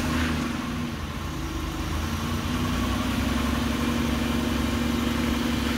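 A 2006 Buick Lucerne CXL idles steadily after start-up, its smooth, even engine hum close and constant with a low drone underneath and no voices.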